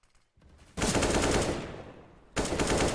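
AK rifle fire in CS:GO comes as two bursts of rapid automatic shots, each a dense crackling volley with a short gap between, loud and close with no talk over it.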